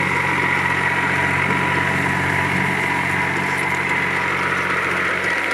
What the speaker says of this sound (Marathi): टोटल ओल्या रानामध्ये ट्रॅक्टर चालू आहे कंटिन्यू